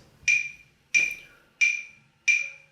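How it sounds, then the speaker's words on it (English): A metronome ticks at 90 beats per minute, giving four crisp, bright clicks at an even pace, close and clear with no talking. "So 90 beats per minute sounds like this."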